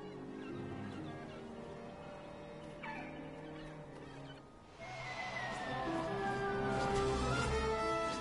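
A bird squawks and honks in the Broken Age game, goose-like calls that come in later and louder over a layered, musical game soundscape.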